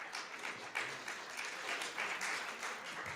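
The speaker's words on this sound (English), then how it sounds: "Yes, applause, applause." Audience applause at an evening event in a synagogue, heard over a livestream: a soft, continuous crowd clapping with slight swells, fairly distant and low in level.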